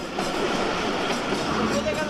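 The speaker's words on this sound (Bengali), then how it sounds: "এই যে দেখেন সেই একই সাউন্ড একই শব্দ যে ট্রেন চলেছে" Pakistan Express train running on the tracks between Islamabad and Lahore, a steady loud rumble and rattle heard from inside the carriage, continuous throughout the short stretch.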